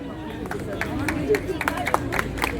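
Audience at an award ceremony for an international 5, 10 and 21 km running race applauds with scattered, uneven claps and murmuring voices, all under nearby chatter and talk.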